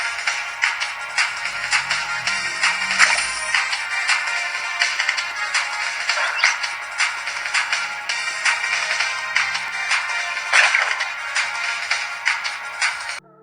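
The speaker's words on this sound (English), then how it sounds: "And this is a new version of Snake" Electronic bleeps and chirps from the Snake game on a Nokia 2720 Flip phone, a steady stream of short, bright tones repeating busily throughout without any talking.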